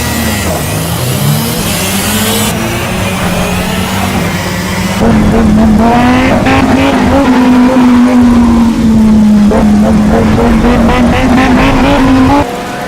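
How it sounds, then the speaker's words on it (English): Race car engine roar in the Project Cars racing game, a loud sustained drone shifting pitch with gear changes and rising revs, with tyre noise and echo off the track surroundings throughout. "strong engine roars, tyre screeching and reverbing off the surroundings as you race around the track"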